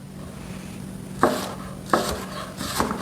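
An Icel kitchen knife cuts through food onto a cutting board in three distinct, evenly spaced chops, close and crisp against a quiet background hum.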